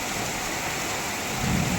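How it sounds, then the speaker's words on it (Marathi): Heavy monsoon rain pours steadily in Pune as a dense, continuous roar, with a deep thunder rumble swelling near the end; wind accompanies the downpour and no voices are heard. "विजा पण तेवढंच कडकडत आहेत पाऊस पण खूप जोरात येतो"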